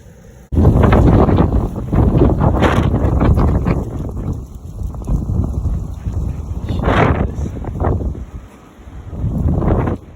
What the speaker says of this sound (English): We got like 100-mile-an-hour winds, and I took some videos of it.